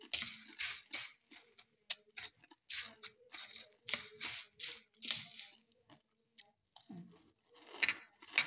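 Close, crisp crunching of homemade fried pop rice made from leftover cooked rice that was washed and sun-dried, heard as a quick run of separate bites with short pauses between them.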